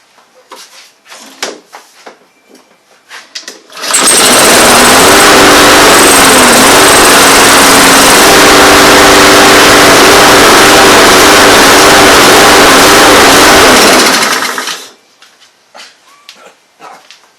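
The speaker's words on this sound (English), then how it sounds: "Let's see if I put on choke, if it will even start." A Honda engine on a Troy-Bilt lawn mower, choked, catches and runs loud and steady for about ten seconds before cutting out, with quieter handling noises before and after.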